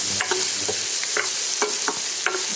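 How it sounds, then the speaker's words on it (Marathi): Onion roasting in a steel pan for a mixed-dal dill-leaf vegetable dish, a steady close sizzle broken by irregular scraping stirs of a spatula against the metal. "हे कांदा चांगला भाजला"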